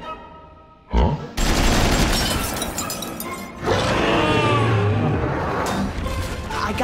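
Machine gun fire as a sound effect: two dense, loud bursts of rapid automatic shots, the first brief and the second sustained for several seconds, with no talking.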